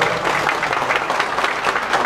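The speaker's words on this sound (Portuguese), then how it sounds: "Eu quero pedir para todo mundo uma salva de palmas para os nossos voluntários da cozinha" An audience at a Disco Xepa Day food event in Curitiba claps for the kitchen volunteers in a steady, moderately loud round of applause with no talking over it.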